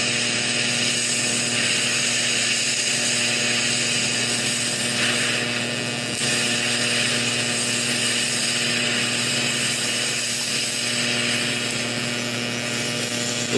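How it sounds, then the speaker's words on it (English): A DC-mode TIG torch brazing in a home garage, giving a steady, fairly quiet electric buzz and hiss with a constant hum, running alone without talk. "we're going to try this out in DC mode as if we were welding and see what happens"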